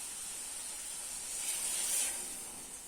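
Water splashed into a hot cooking pot of grains over a chula fire raises a soft, steady hiss that swells for a moment and then settles back.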